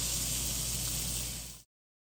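Ibérico secreto pork loin searing in a hot oiled pan gives a steady, close, broadband sizzle and hiss that holds evenly for about a second and a half, then cuts off abruptly.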